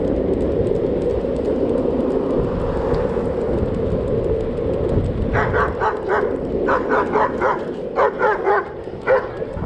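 A dog barks in a quick series of sharp yips and woofs over steady low rumbling background noise, starting midway and continuing in bursts to the end.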